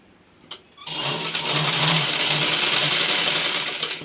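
A sewing machine stitching cloth for a baby langoti starts after a brief knock and then runs in a steady, loud, fast whir close by.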